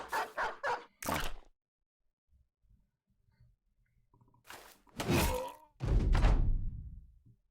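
Dogs barking in the fantasy strategy game Battle Brothers: three quick yips, then a sharper bark, a long quiet gap, and two loud, harsh barks with growly tails, heard alone.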